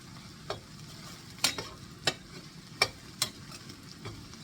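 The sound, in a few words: onions frying and being stirred in a pan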